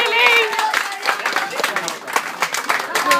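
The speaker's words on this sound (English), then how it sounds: "Let's have a round of applause." Wedding guests at a reception applaud the bridesmaids during a best man speech, a burst of close clapping mixed with cheers and lively crowd voices.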